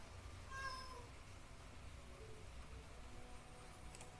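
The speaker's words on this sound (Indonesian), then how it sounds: "Maaf ada gangguan, kucing saya meong-meong." A cat lets out a single short meow early on, faint against steady background hiss, followed by quiet.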